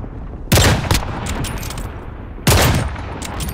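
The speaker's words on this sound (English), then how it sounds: "Two sniper kills in quick succession." Two loud, sharp sniper rifle shots from a video game, each a heavy booming crack with a trailing echo, spaced about two seconds apart over background game noise.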